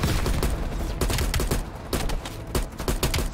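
An AA gun firing in the shooter game Call of Duty Black Ops Cold War: rapid, loud, continuous bursts of heavy gunfire, close and dense, with no talking.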